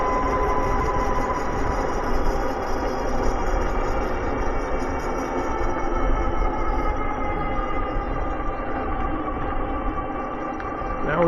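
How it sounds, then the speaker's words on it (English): A RAEV-GT electric bike climbs straight up a hill on throttle only, giving a steady, close motor whine over a continuous broad rush of wind and road noise that holds level throughout. "I'm going straight up a hill here, and I'm gonna accelerate. We're doing throttle only up this hill."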